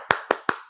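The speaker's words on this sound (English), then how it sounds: "We clapping." Three sharp hand claps, evenly spaced and close by, each snapping out crisply with a short ring-off and no voices around them.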